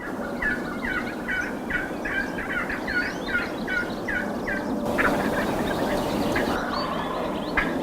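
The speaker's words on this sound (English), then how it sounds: "Other birds were gobbling and hens were yelping" Wild turkeys gobble repeatedly in a rapid, rolling series, fairly near, with hens yelping and other birds calling over a steady outdoor background during a Minnesota spring turkey hunt.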